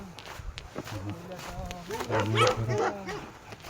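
Dogs in a flat stretch of Nepali hill forest bark in short bursts, a few yips early and a louder cluster near the end, mixed with someone talking over them.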